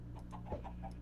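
Chickens cluck in a video game with a short, repeated rhythm, moderately close and set against a steady low background hum.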